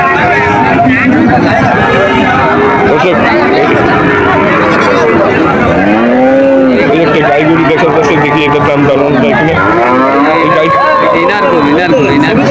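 Cattle moo repeatedly amid a busy crowd of talking voices at a livestock market, with steady outdoor background noise.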